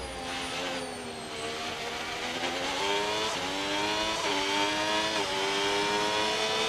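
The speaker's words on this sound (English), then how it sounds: "I believe Warriors on a flying lap now too" Race car engine on a flying lap around Zandvoort in the F1 26 video game: a steady, loud high-revving whine whose pitch climbs through the gears, with brief dips at each upshift, continuous throughout with no talk.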